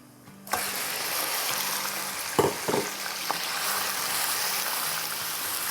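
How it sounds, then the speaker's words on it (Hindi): Boneless chicken cubes fry with cardamom in a pot, a steady loud sizzle close by, with a few sharp clanks of a utensil against the pot partway through and no talking. "तो ये इलायचियों के साथ ये मज़े से फ्राई होगी चिकन।"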